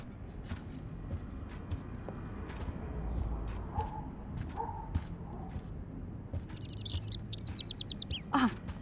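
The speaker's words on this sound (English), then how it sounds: "can you help me get this bird out of here?" Small bird in the video game Life is Strange, stuck indoors in a kitchen, chirping in a quick bright trill near the end, following a few faint earlier tweets over steady ambient background noise.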